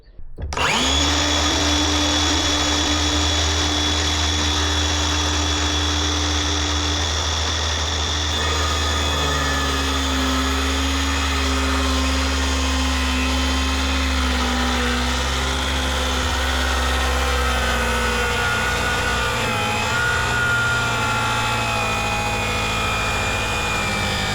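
A Milwaukee 6.5-inch battery-powered circular saw cutting through 2-inch-thick wood for stair steps, its loud, steady motor whine running continuously for about 24 seconds with no talking.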